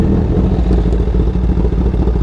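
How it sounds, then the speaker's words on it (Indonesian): A 2019 Honda CBR1000RR SP1 1000 cc motorcycle with an Austin Racing full-system exhaust being ridden, a loud, close, steady deep engine drone with rapid rumbling pulses and a rattly edge, sustained throughout. "emang nih suaranya gede sih karena knalpotnya ini udah full system ya dari Austin Racing"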